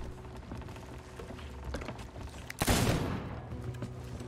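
A single loud gunshot blast in the pirate video game Sea of Thieves, a sharp broadband crack that rings out briefly over faint game ambience, with no talk.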